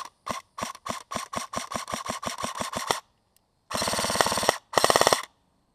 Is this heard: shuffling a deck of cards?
no